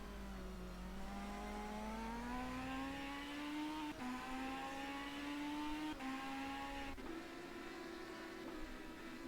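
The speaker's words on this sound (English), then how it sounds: "Just gotta love the sound of these GT500 cars." GT500 race car engines in rFactor 2 at Sepang howl and rev steadily, pitch climbing with brief drops at gear shifts, loud and continuous with no talking.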